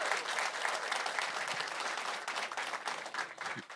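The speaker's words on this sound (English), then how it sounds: "Can we clap it up for everyone that shared?" Steady applause from an audience at a live podcast event, a dense continuous patter of many hands clapping at an even level for several seconds.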